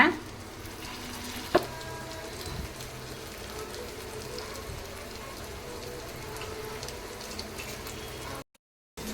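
Fish frying in hot coconut oil gives a steady, soft sizzle and crackle throughout, fairly faint, with a brief clink near the start.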